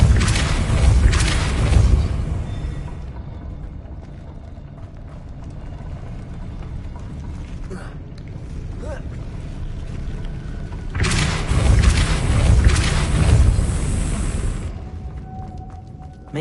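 A mechanism in the Hogwarts Legacy video game spins up after a Depulso spell, with deep rumbling booms and rhythmic clattering thumps. These come in two louder bursts separated by a quieter grinding stretch.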